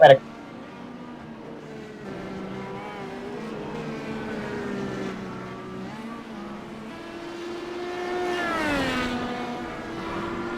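Indy cars race around an oval track, engines droning steadily from a distance and rising into a louder pass-by near the end, under continuous race commentary.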